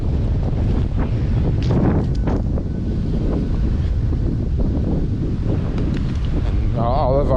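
Strong wind buffets the microphone on an exposed hilltop in San Francisco, a loud continuous low rumble with gusting roar throughout and no break.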